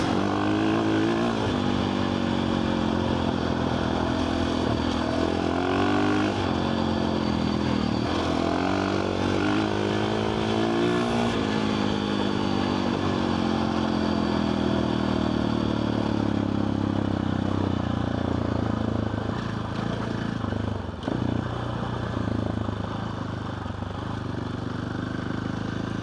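A motorcycle engine is loud and close throughout, running up through first, second, third and fourth gear in a steady, unbroken drone with rising revs and a buzzy rattle riding on top.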